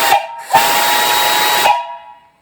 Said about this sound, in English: really nice whistle. I'll blow it here, turn down your volume.